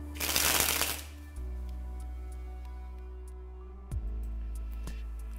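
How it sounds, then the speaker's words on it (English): Playing cards sprung from the thumb from one hand to the other, a quick loud burst of rapid fluttering clicks at the start, then quiet with a faint low hum and a couple of soft taps. "Simply spring the cards off the thumb without any distance whatsoever."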